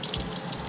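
Water running steadily from a small sink tap inside a camper van, a continuous close hiss of flowing water with no talking.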